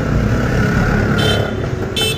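A motorcycle with a broken clutch cable, push-started after being shoved along the road, runs with a steady, loud engine rumble close by for the whole stretch, and a brief higher whine rises twice near the end.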